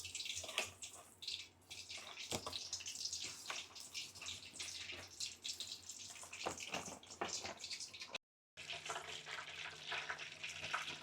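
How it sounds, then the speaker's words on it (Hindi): Frozen chicken nuggets sizzling in hot oil, a steady crackling hiss with bursts of spattering throughout, with a brief silent gap. "अभी हम फ्राई करने वाले हैं हम सबके फेवरेट चिकन नगेट्स"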